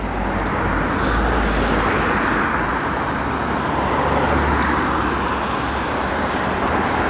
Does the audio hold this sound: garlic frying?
no